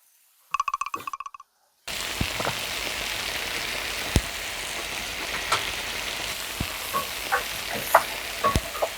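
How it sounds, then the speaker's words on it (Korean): Spicy chicken dakgalbi stir-fries in a pan over medium-low heat, a dense steady sizzle with occasional spatula scrapes and pops, close and fairly loud after a brief clattering start. "섞으면서 볶아주세요."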